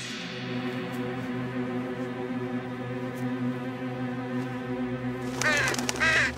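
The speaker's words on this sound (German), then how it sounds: "nur ein Vogel" In a cartoon soundtrack, a bird caws a few times near the end over a steady, droning musical background.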